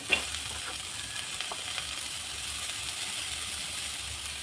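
Onions fry in a pan for vegetable palav, making a continuous close sizzle with a faint stir or clink near the start.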